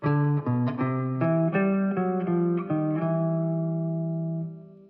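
A single-note jazz line moves stepwise through a chromatic enclosure, about a dozen smooth connected notes in a steady rhythm before the last one sustains and fades, clean and close with no talking.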